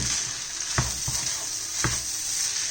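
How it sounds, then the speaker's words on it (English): Fried rice with egg sizzles steadily in a pan while a spatula scrapes through it a few times, the strokes sharp and close over the constant hiss. "So now I mix in mostly the egg"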